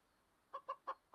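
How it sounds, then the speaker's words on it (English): Chicken clucking in a video game: three short, evenly spaced clucks plus the start of a fourth, fairly close and clear over a quiet background with no talk. "Is that another chicken?"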